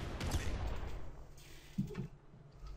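A bazooka fires in the video game Nuclear Throne, one punchy blast with a deep low thump near the two-second mark standing out over dense, noisy game audio.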